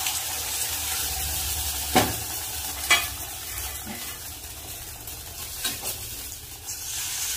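Beaten egg frying in oil in a wok while being stirred, a steady close sizzle broken by several sharp scraping clacks of the spatula against the pan.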